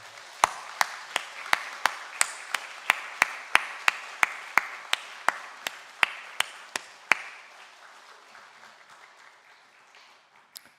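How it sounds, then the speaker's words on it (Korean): A church congregation at a Sunday morning service claps together in a steady unison beat, about twenty sharp, evenly spaced claps that stop abruptly and leave a fading room tail. "우리 큰 박수 보내도록 하겠습니다"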